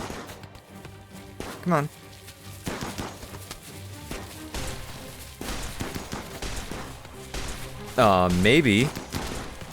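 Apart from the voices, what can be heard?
shotgun and assault rifle fire in video game Rimworld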